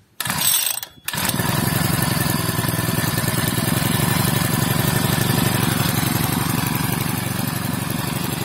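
Dolmar MS 335.4UT four-stroke brush cutter being pull-started: a short sputter and catch, then the engine settles into a steady, fairly loud close running drone.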